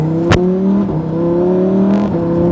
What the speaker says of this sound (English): I'm gonna show you guys what it's like to be driving and accelerating from a standstill.